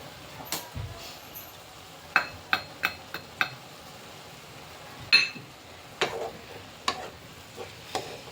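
Egg Maggi noodles being stirred with masala powder in a pan, sounding as scattered light scraping clicks and soft taps of the spoon against the pan, irregular and close, over a faint sizzle with no talking.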